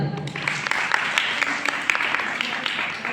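A group claps for a little girl at a temple, a dense burst of close applause with sharp individual claps, while a voice talks underneath.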